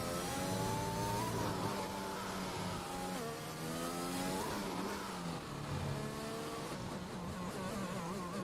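Onboard engine sound of a Formula 1 car in the F1 2021 racing game during a league race at the Spanish Grand Prix, a high revving whine rising and falling steadily through gear changes and corners, loud and continuous with no voices.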